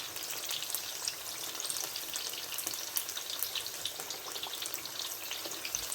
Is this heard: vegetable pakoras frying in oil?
yes